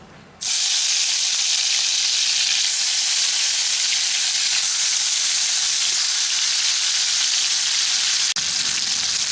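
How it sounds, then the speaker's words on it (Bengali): Prawns fry in hot mustard oil in a wok, for a Bengali prawn malai curry. A loud, steady sizzle starts abruptly and hisses on without a break, with a brief dip near the end. "তেলটা আমাদের ভালোভাবে গরম হয়ে গেছে এখন আমি মাছগুলোকে ভাজার জন্য দিয়ে দিচ্ছি"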